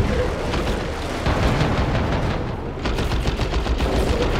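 Battle wagon guns blaze in the Dawn of War 2: Retribution strategy game, a dense, continuous rattle of rapid gunfire and crunching impacts, loud and sustained with a brief dip midway.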